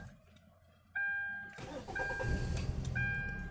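A Hyundai Tucson with a cylinder one misfire cranks and catches, with door-chime tones sounding before the engine turns over, then a rough, steady idle continues close by.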